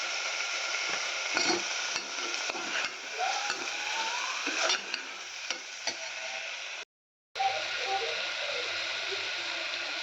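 Turmeric, coriander powder and chilli sauté in a pan for khichadi, giving a steady close hiss with occasional light stirring clicks, broken by a brief moment of silence near the end.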